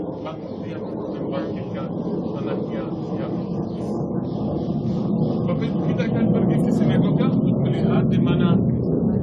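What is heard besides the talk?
fighter jet aircraft flying overhead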